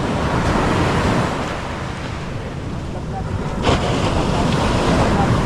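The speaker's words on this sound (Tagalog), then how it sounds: "Naglalakad-lakad tayo dito sa tabing dagat." Surf rolls onto a beach shore beside moored boats, a steady roar of waves buffeted by wind against the microphone, loud and close, with one brief sharper splash midway.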